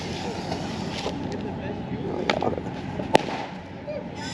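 New Year fireworks go off at a distance, with a few scattered pops and one sharp crack near the end. They sit over a steady rushing, wind-like outdoor background.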